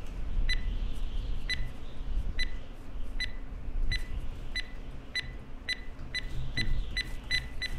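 C4 explosive charge in the video game Hurtworld beeping in a steady, repeating rhythm of short electronic tones that gradually speed up, sounding over a noisy in-game background.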